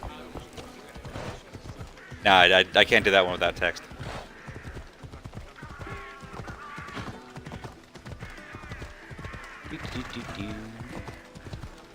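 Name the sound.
horse hooves clip-clopping in a video game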